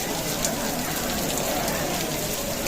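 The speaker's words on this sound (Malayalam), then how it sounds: "മഴയൊക്കെ കഴിഞ്ഞിട്ട് ഒന്ന് പോകാം." Steady rain pours at a temple elephant-feeding festival in Kidangoor, a dense, even hiss of drops on surfaces throughout, fairly loud and close.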